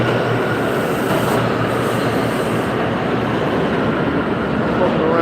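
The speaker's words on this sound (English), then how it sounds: "And luckily enough, I got a train right here." A New York City subway train rumbles loudly and steadily through the station, a continuous close roar of wheels and cars running without a break.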